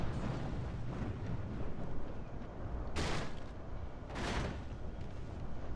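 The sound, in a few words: gunfire from a video game battle, firing point blank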